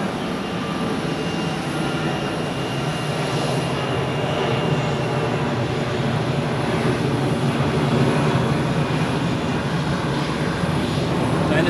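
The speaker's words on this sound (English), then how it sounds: "the 777 which just taxied out is going to Chicago" A Boeing 777 jet taxis out at Zurich Airport, its engines giving a steady, broad rumble with a faint whine that holds evenly throughout, moderately loud and without talk.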